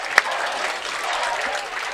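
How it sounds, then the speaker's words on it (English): Crowd applause at a varsity high school football game, RMHS against Barnstable, a brief wash of clapping opening with one sharp clap and holding steady. "here comes Colby getting a big hand from the crowd"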